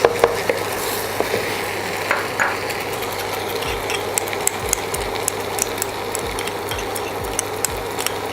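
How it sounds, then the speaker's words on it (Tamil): Spoon stirring fresh cream into a thick shahi paneer gravy in a pan, with steady bubbling and scraping and scattered clicks of utensil against metal, no voices. "நான் ஃப்ரெஷ் க்ரீம் ஆட் பண்ணி நல்லா மிக்ஸ் பண்ணி விட்ருவோம்."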